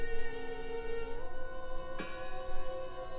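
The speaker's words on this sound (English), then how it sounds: "Listen! The bell!" A large bell tolls in the video game Draugen, a sustained ringing tone that shifts pitch and is hit again with a sharp new strike, heard alone and fairly loud.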